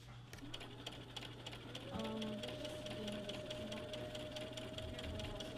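A sewing machine stitches fabric into a pocket, its rapid steady mechanical whir running throughout, with a low constant hum beneath and brief voices in the background.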